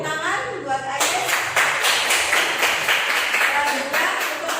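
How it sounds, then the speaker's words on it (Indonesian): Classroom clapping from a group of students, a dense burst of hand claps starting after a brief voice and continuing steadily and fairly loud throughout, with some talk mixed in. "Kasih tepuk tangan buat Ayes"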